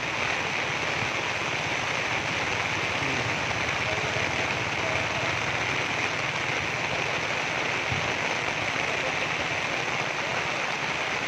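Torrential rain falls over flooded ground in Kuantan, a continuous, even roar of downpour that stays loud and unchanging for over ten seconds.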